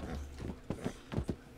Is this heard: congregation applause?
no